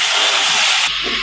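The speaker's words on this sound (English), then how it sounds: "I've heated a tablespoon of oil in the pan and I'm adding 1 teaspoon of cumin seeds" Cumin seeds dropped into a tablespoon of hot oil in a pan, a loud, close burst of hissing sizzle that cuts down sharply partway through into a softer frying crackle.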